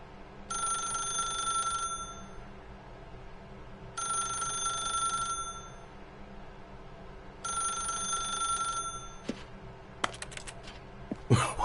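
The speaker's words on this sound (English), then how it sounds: "Now pick up the phone, said the bucket. Pick up the phone and it will take us back home," A telephone rings in The Stanley Parable Ultra Deluxe: three long, steady bell rings with short gaps between them, then a few sharp clicks and a clatter at the end.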